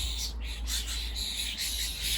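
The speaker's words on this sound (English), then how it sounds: "these starlings need all the help they can get because numbers are in decline" Hungry starlings give a steady high chatter of calls and chirps against a low constant hum, moderately loud and continuous, with no voices.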